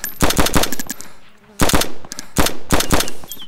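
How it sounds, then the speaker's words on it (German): Loud automatic gunfire in the video game DayZ, three rapid bursts of shots separated by short pauses, close and sharp, with no voices. "Ich schieße sie gleich, okay?"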